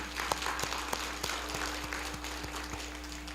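A church congregation claps during a worship service in a steady, rhythmic beat, fairly quiet and continuous, with a low steady hum underneath.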